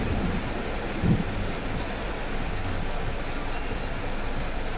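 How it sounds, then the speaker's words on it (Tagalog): Heavy rain pours on a company vehicle stuck in evening traffic, a dense, constant roar with no pauses, loud and close, with a brief thump early on and no talk. "Naku po, lakas ng ulan."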